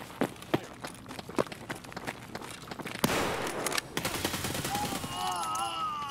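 Bursts of rapid gunfire in Escape From Tarkov crack out among running footsteps, several sharp shots in quick succession before a denser rattling volley, with faint chatter and tonal sounds toward the end.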